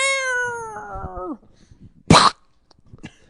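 A single drawn-out cat meow close by, falling in pitch at the end, followed by a short rough burst like a cough.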